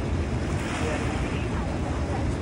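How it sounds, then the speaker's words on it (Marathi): A boat ride on the Rhine river near Rhine Falls in Switzerland fills the air with a steady, broad rush of water and wind, continuous and fairly loud, with no clear voices. "या बोटीतून ऱ्हाइनचा फॉल, त्याचबरोबर ऱ्हाइनची प्रवाहित नदी"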